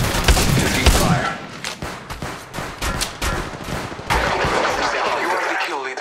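In Apex Legends Mobile, dense automatic gunfire rattles in fast, close, loud bursts and continues steadily through the stretch.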